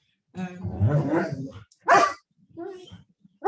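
A pet dog barks indoors in a short, loud, close burst, with someone talking just before and after.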